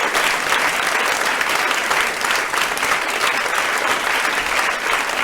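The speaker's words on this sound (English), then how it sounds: "let's give him a round of applause" An audience applauds loudly and continuously, dense clapping filling the whole stretch without a break.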